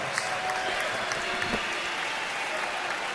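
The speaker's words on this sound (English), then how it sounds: "How about a nice round of applause" Steady applause from a crowd at a boxing match, a continuous wash of clapping that holds evenly throughout without pauses.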